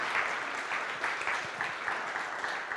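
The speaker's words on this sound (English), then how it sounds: "we're still going to give Ignacio a round of applause" Steady applause from an audience at a live poetry recitation event, moderately loud and continuous over a short stretch.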